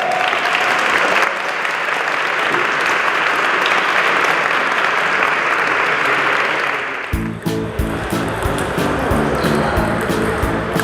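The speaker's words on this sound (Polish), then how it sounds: "Brawa dla was wszystkich!" Steady, loud applause fills the hall for clerics playing in a seminary table tennis championship, dense clapping throughout before shifting to a sharper, more rhythmic burst near the end.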